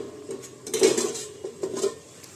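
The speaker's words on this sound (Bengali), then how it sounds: "আদা কুচি দিয়ে নাড়াচাড়া করে আবার আমি 2 মিনিটের জন্য ঢাকা দিয়ে দেব।" Spinach with chopped ginger stirred in a metal pot, a few clanking spoon-against-pot scrapes and knocks, close and moderately loud with no voices.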